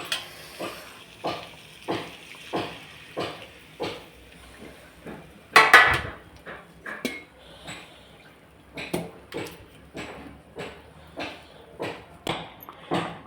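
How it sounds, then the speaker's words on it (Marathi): A pan tempering for gram flour pithla, with tomatoes, chillies and garlic, gives a soft sizzle under steady rhythmic stirring and scraping of a spatula against the pan, with one sharper clatter midway. "पिठल्याला फोडणी देते."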